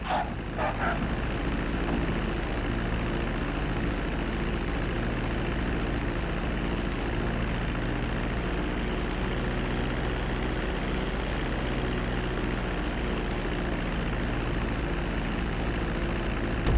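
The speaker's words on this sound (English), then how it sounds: "Start reducing the plane's altitude gradually so you're just above the runway as you approach." Propeller plane coming in to land on a runway in Grand Theft Auto 5, with a constant loud droning engine and propeller hum that holds steady throughout and no voices over it.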